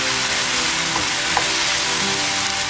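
Carrots and mushrooms sauté over high flame for a vegetarian lasagna filling, giving a dense, even hiss throughout with a couple of faint clicks from stirring.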